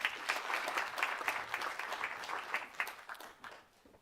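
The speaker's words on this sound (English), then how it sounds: "Let's give a warm round of applause for Dr. Gaskin and Marco Davis." Warm audience applause at a health-policy gathering on hypertension and cardiovascular disparities, with steady, dense clapping from a large crowd that carries on for several seconds before tapering off at the end.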